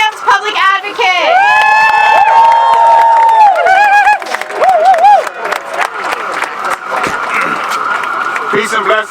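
Large outdoor rally crowd cheering, whooping and clapping for speakers at a Gaza ceasefire demonstration in New York City, loud and sustained, with shouted voices and a speaker's amplified voice cutting through.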